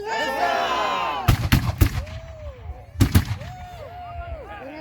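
At an outdoor pirate show, a cannon fires several booming blasts in two quick bursts, loud and close, while a crowd cheers and shouts between the shots.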